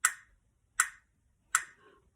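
Three sharp, evenly spaced claps from woodwind students counting a rhythm in a class, each crisp and dry with silence between, fairly close.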